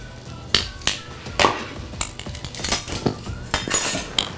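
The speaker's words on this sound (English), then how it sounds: "So let me grab my teaspoon and we'll add that right in here." Metal teaspoon clinking against a mixing bowl while vanilla goes into chocolate cake batter, a quick series of bright, close taps and scrapes in an irregular rhythm, with utensils and dishes clattering.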